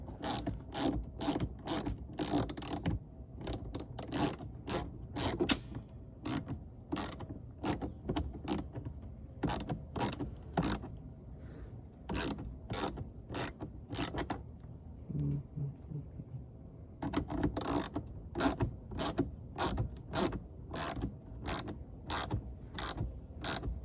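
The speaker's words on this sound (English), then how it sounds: "Get it tightened by hand so that I can start ratcheting." A hand ratchet tightens a bolt on a Roush rear side splitter, giving rapid close clicking in steady runs with a short pause midway before the clicking resumes.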